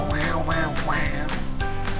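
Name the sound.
voice imitating Donald Duck quacking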